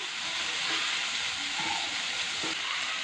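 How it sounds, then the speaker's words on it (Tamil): Baby potatoes roast in a pan over a medium flame, making a steady, hissing sizzle with a few faint clicks. "மீடியம் ஃப்ளேமில் ஒரு பக்கம் நல்லா ரோஸ்ட் ஆகி வந்த பிறகு திருப்பி விடலாம்"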